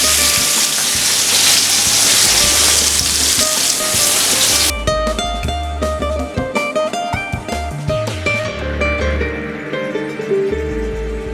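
Chopped onion and garlic hit hot oil in a pan for a pork rib and foie paella, giving a loud, dense sizzle that settles into steady frying crackle with rhythmic stirring scrapes and light pan knocks, no talking.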